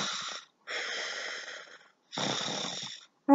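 A storyteller imitates a bear snoring with three long, breathy, rasping snores separated by short silences, close and alone.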